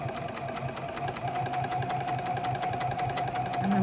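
Sewing machine stitching quilt block seams, a steady fast mechanical ticking and whirring with even rhythmic needle strokes, close and continuous without talk.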